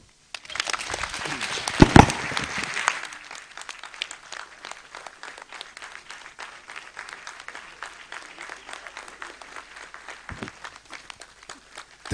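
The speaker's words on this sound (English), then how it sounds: "Please keep on clapping for our guest lecturer" Audience applause for a guest lecturer at an annual lecture and induction ceremony: a loud burst of clapping in the first seconds, then steady sustained clapping continuing at a lower level to the end.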